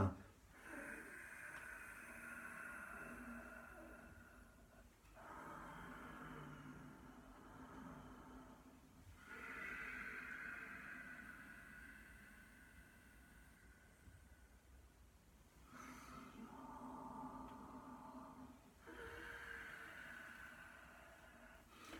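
Slow qigong breathing drawn from the back of the throat, long throaty breaths repeating in steady cycles about every five seconds, soft and close with no talking.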